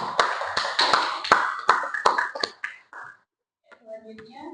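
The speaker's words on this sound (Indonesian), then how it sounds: "Kita kasih aplaus dulu." A seminar audience at a 2025 civil-servant orientation in Surakarta gives a short burst of applause. The claps come sharp and scattered for about three seconds, then fade, and a voice starts speaking.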